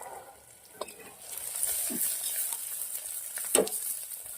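Green peas go into a pan of frying onion with green chilies and curry leaves, a steady sizzle broken by a few scraping stirs of the spoon and a sharp clatter near the end.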